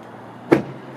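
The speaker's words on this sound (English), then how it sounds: "Let me pop the hood here." A single short mechanical thunk as the hood of a 2008 Hummer H3 Alpha Edition is popped open, like a latch releasing, sounds once close by against a quiet background.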